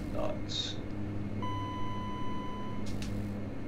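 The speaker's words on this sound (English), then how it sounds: "it's the altitude alert" A flight simulator's altitude alert sounds as a single sustained electronic tone lasting over a second, heard over a steady cockpit hum with a few other brief beeps around it.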